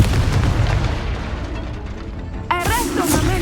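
An explosive spell blast from the video game Hogwarts Legacy, a single deep boom with rumbling debris over low game ambience, followed by a brighter magical chime and shimmer near the end.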